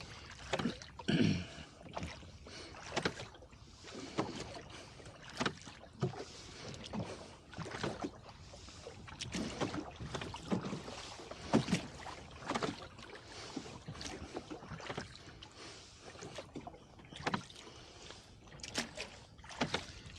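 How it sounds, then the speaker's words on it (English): Oars of a slow-moving rowing boat on Lake Sonoma dip and pull through water in a steady rhythm of soft splashes and swishes, close by, with wind brushing the microphone. "we're not even making a boat length per stroke, per oar stroke here, so we're going pretty slow"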